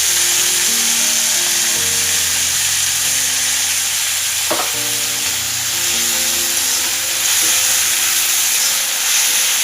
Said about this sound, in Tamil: இப்போ டொமேட்டோ நல்லா வதங்கணும்.